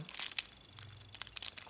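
Crinkly plastic wrapping on a Dungeons & Dragons Magic commander deck, Aura de Courage, rustles and crackles in short bursts while being opened, close and fairly quiet.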